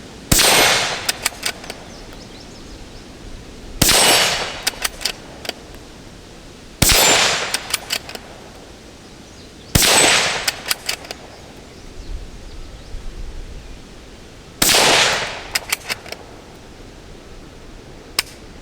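Rifle shots from a Marlin 25 MN ringing off steel plates outdoors, five sharp cracks spaced a few seconds apart, each followed by quick metallic pings and clanks of struck steel.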